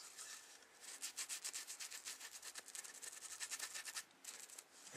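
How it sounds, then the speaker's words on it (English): A cloth rubs a finish into wood with quick, steady back-and-forth strokes. The scrubbing is soft and close, with a brief pause near the end. "Just rub and rub until you get all that off"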